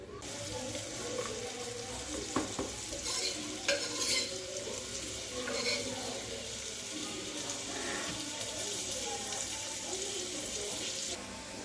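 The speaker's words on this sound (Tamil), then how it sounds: "வெங்காயம் நல்லா பொன்னிறமாக வணங்குற அளவுக்கு நம்ம வணக்கி எடுத்துக்கலாம்" Onions frying in a pan and being stirred until golden, with a continuous crackling sizzle and repeated scraping, clinking strokes of a spoon against the pan, moderately close and steady throughout.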